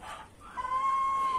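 Chickens outdoors on a rural homestead, a soft clucking call and a drawn-out higher vocalization rising over faint background ambience, close but quiet.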